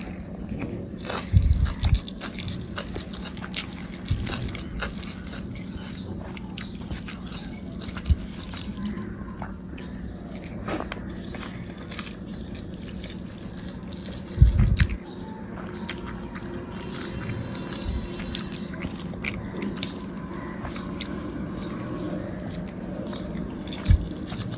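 Someone eats coriander leaf chutney close to the microphone, giving soft, repeated wet chewing and biting sounds with a few sharper clicks over a quiet room hum.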